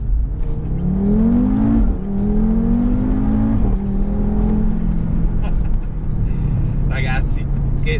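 An Audi RS3 engine revs loudly and close, its pitch climbing in repeated surges with brief drops between gear changes, while a voice speaks over the roar.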